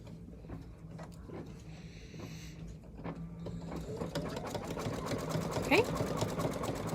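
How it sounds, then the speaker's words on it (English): An embroidery sewing machine runs a satin stitch, starting faintly with soft ticking and building into a dense, rapid mechanical whirr and tapping, with a brief spoken word over it. "do our last step, which is going to do the really nice satin stitching around, and we will let it stitch out."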